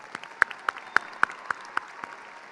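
Scattered applause from a small audience at a high school graduation ceremony, distinct individual claps in a loose, uneven rhythm for about two and a half seconds, fairly quiet and nearby with no talking.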